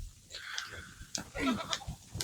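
Goats bleat several times close by, wavering calls overlapping one another in a short burst with faint background rustle.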